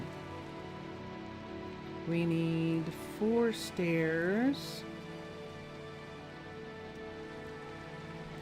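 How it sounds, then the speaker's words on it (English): Steady rain patters through Minecraft gameplay in the Minecolonies mod, a soft constant hiss running the whole way while a person talks in the middle. "It sounds like it's raining."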